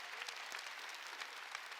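A church congregation claps in a dense, steady patter of many hands, heard faintly and at some distance.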